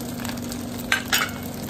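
Sweet cured tocino goes into a pan of vegetable fried rice, a steady close sizzle with two sharper bursts of crackle as the meat hits the hot oil, no one speaking.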